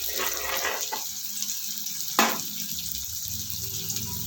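Sliced onions frying in a pan for an okra dish send up a steady watery sizzle, with a single sharp clink near the middle.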